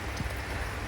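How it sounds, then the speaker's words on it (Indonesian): Light drizzle falls during a rainy trip to a beach campsite at Teluk Hantu, a soft, steady hiss of fine raindrops on surfaces that lasts briefly with no talk. "Dan sini ternyata hujan gerimis dan lagi-lagi hujan gerimis."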